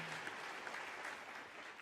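Sustained audience applause at an IOC session in Paris, a dense, steady wash of many hands clapping that holds evenly for about two seconds.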